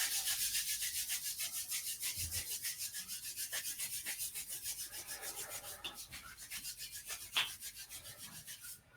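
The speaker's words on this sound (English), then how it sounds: "Let's start off by rubbing the hands together." Palms rub briskly together in a steady back-and-forth rhythm, a soft, close, rasping swish repeating for several seconds with no talking.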